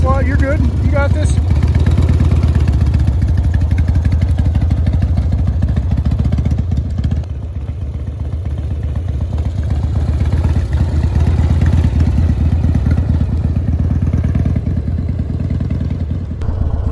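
Harley-Davidson Dyna motorcycle being ridden by a woman on her first ride, the engine rumbling loudly and steadily throughout while she works the clutch and throttle, close to the rider.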